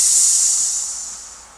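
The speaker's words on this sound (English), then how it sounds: "You flip up the tab on the cola to open it. Instantly, you hear the fizzy gas escaping." Fizzy gas escapes from a freshly opened cola can in a loud, sharp hiss that starts at full strength and tapers off over under two seconds, with nothing else heard.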